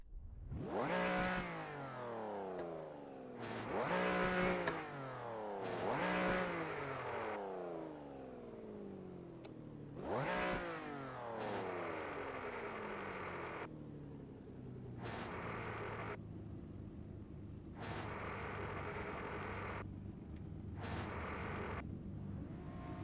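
A car engine in Assetto Corsa revs hard on a Shutoko expressway cruise, with several loud rising revs in quick succession and then a steadier, sustained drone as it drives on. No talk.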